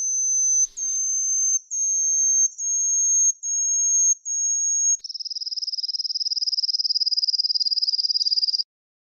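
A small songbird of the Sylvioidea superfamily gives a run of pure, very high, sustained whistled notes, then switches to a fast, buzzy trill at a slightly lower pitch; clean and alone, moderately loud, ending abruptly.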